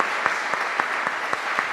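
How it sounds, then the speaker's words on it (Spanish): Audience applause at a business forum closing event in Buenos Aires, a steady wash of many hands clapping with sharper individual claps standing out, sustained for the whole short stretch. "Un aplauso por eso."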